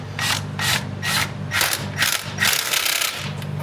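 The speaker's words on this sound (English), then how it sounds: "I just have to tighten this little pesky ass sway bar link." Ratchet tightening a sway bar link on a Honda Civic, with close, crisp clicking in a series of short bursts, some strokes rubbing as they run.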